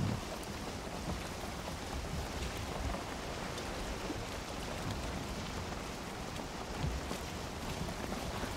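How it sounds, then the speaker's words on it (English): Steady rain in the Valheim video game falls as an even, dense hiss, with a faint low rumble underneath that continues throughout with no voices. "Uh-oh, it's raining."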